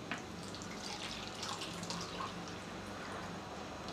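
Water runs steadily from a tap, a continuous close splashing flow that holds an even level throughout with no voices over it.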